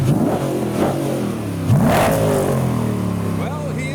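A custom Nissan GT-R engine revs as the car pulls through a crowd into a car park, rising and falling with a couple of throttle blips, with people talking over it throughout.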